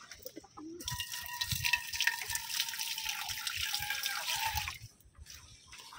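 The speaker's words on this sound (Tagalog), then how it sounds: "Lagyan lang natin ng tubig." Water poured from a container splashes in a steady gush for about four seconds, close and fairly loud, then cuts off, leaving faint handling noise.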